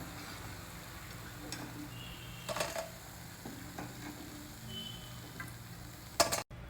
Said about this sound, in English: fry to a lovely golden brown color till it is nice and crispy on the outside